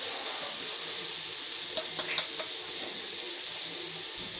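Butter sizzles and crackles steadily in a small pan, a close continuous hiss with a few light pops or taps partway through.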